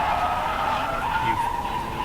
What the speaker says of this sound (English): He can get a power slide going, kind of.